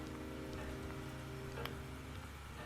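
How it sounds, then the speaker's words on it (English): Steady rainfall in the video game Calvino Noir patters continuously over a low, constant hum, with no voices; the downpour stays even and moderate throughout. "It's going to be perpetually raining the entire time."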